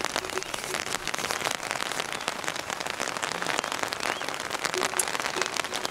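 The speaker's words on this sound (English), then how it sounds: "It kept raining all day" Steady patter of rain falling on a surface, a dense crackling hiss that continues evenly throughout without pause.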